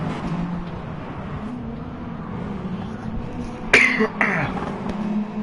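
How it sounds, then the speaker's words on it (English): A single sharp throat-clearing cough lands mid-clip, close and loud, over a steady low engine drone from racing commentary on a car race at Interlagos. "My cough threw me off, I apologise."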